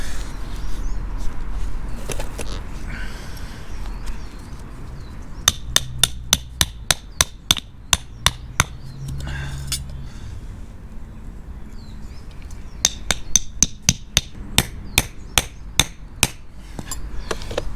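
Tent peg stakes are hammered into solid frozen ground after a night at -2, with two runs of sharp, ringing metallic blows in quick succession, loud and near, separated by quieter rustling.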